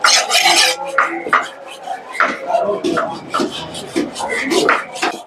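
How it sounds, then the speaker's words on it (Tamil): A large seer fish is cut and scraped at the busy Pattalam fish market, giving repeated close rasping strokes in an uneven rhythm, with voices in the background. "பெரிய சைஸ் மீன் கட் பண்றாங்க பாருங்க"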